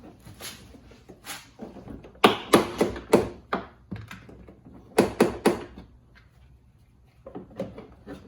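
A front driver-side door panel on a 2011-2019 Volkswagen Jetta being pried off, its plastic clips releasing in close, sharp snaps and pops that come in quick clusters between quieter handling noises.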